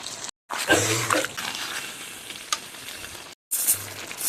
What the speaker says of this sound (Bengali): অল্পটুক জল দিয়ে দেব